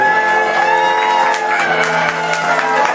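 An audience at a quinceañera claps and cheers loudly, with shouts and whoops over steady applause and music underneath, filling the room continuously.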